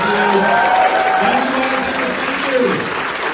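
Crowd applause and cheering at an Andrew Yang rally at SXSW in Austin, a loud, steady wash of clapping through the whole stretch, with voices shouting and calling out over it.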